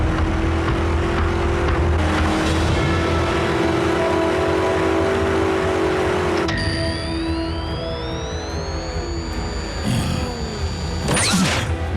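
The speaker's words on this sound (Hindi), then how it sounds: "मैं इस इंजन की आवाज को अच्छी तरह पहचानता हूं।" A cartoon car engine approaches with a steady, rising roar and whine, then shifts to a higher revving tone with swooping pitch glides, ending in a short burst of noise.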